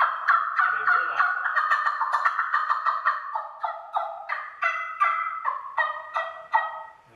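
A hand-held turkey trumpet call, played by drawing air through it, gives a rapid series of sharp, yelping gobble notes in quick bursts, clear and close with no talking.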